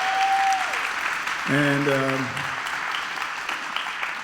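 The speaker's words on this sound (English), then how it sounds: "Give him a round of applause, everybody." Audience applause for a guest speaker at a chamber of commerce event, a steady broadband patter across the whole stretch under a brief spoken word and a short tonal sound.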